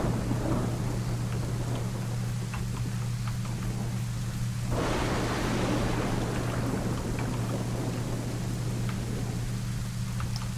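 A stormy DayZ game scene carries steady heavy rain hissing throughout, with a rolling thunder swell rising midway and slowly fading, loud and enveloping with no talking.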